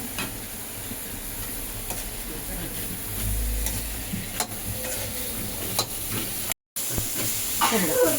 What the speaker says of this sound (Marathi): बस 2 ते 3 मिनटं चांगल्या शेंगा थोड्याशा या कांदा टॅमॅटोमध्ये मसाल्यामध्ये होऊ द्यायच्या